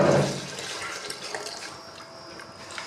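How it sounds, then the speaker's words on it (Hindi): Water poured into a pot of spiced chickpeas for pulao, a brief splashing rush at the start settling into a softer, bubbling trickle that fades over about three seconds. "इसको पानी ऐड कर देंगे"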